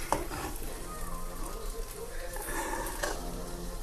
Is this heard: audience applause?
no